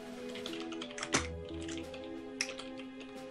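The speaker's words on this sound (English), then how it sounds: "It's a very loud keyboard." Loud typing on a non-mechanical computer keyboard: a steady run of quick, clattering key taps with a few sharper strikes, close and alone with no talk over it.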